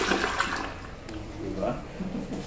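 A homemade toilet flushes hard with a continuous rushing of water that stays fairly loud throughout, while a person talks over it.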